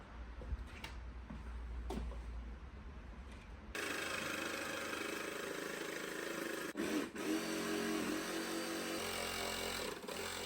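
A jigsaw cutting a window opening through the metal side of a camper van; after a quieter start, a steady, harsh buzzing rasp runs continuously for several seconds, close by, with no talk.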